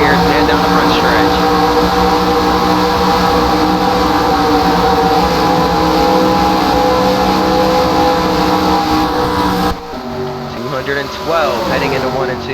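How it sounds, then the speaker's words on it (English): Onboard a NASCAR stock car at Michigan running flat out down the front straightaway, a loud, steady engine roar drones continuously and then shifts tone near the end, with commentary talking over it. "We're gonna ride on board with Jeff Gordon down the front straightaway."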